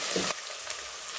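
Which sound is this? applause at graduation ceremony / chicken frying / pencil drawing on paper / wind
chicken frying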